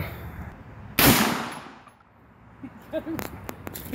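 A single loud rifle gunshot cracks out with a short fading echo, followed by faint clanks and rustling.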